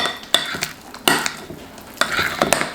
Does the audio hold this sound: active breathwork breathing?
no